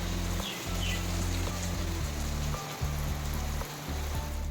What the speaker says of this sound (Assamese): ইয়াত দেখিছে বহুত দবাবিটা বৰষুণ দি আছে